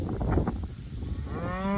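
Cattle in a pasture give a loud, close moo that rises and wavers, followed by a second drawn-out bawl starting toward the end, with no talking.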